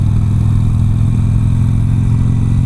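Harley-Davidson motorcycle idling and pulling away in second gear, a steady loud low engine thrum with a pulsing exhaust beat throughout, close and continuous with no talk.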